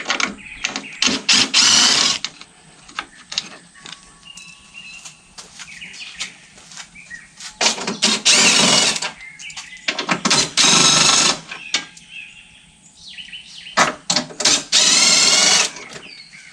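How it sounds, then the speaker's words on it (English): An impact wrench removes headlight bolts on a 1999–2007 GMC truck in several loud whirring bursts of one to two seconds, separated by quieter pauses with clinks and handling sounds. "we start getting the bolts out that our impact can reach"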